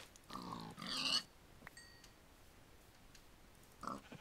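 Pigs in the Minecraft video game giving a few short oinks and grunts close by, separated by pauses over a faint quiet background, with no talk.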